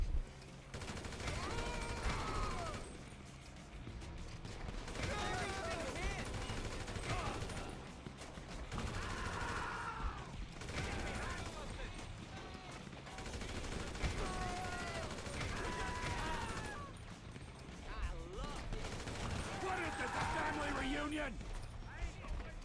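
Gunfire crackles in bursts during a rooftop shootout in Grand Theft Auto 5, repeated rapid shots and fusillades at moderate level, mixed with game sounds while a player talks over it.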